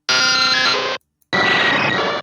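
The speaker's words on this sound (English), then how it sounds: "just the Pokemon sounds that the game makes." Synthesized 8-bit first-generation Pokemon game sounds: a loud, harsh, buzzy chiptune tone burst lasting about a second, a brief gap, then a second noisier, gritty burst of similar length.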